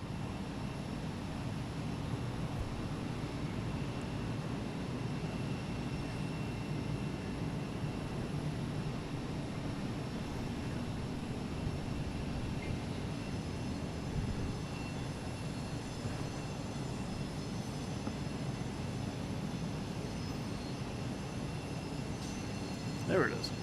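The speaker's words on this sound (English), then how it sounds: "Now we got Southwest taking off now, 22 right, heading to St." A Southwest Boeing 737 MAX 8 takes off from runway 22 right at Boston Logan, its jet engines a steady, broad, distant roar that holds level throughout, with talk faintly beneath.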